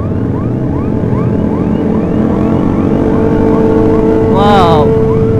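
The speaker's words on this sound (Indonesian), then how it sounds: "Oh, gua kira ada ambulan, anjir. Ternyata suara dari motor ini." A motorcycle emits a wailing, siren-like tone that sweeps up and down repeatedly over steady traffic and engine noise on a busy road in Malaysia.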